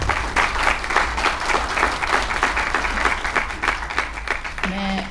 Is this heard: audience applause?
yes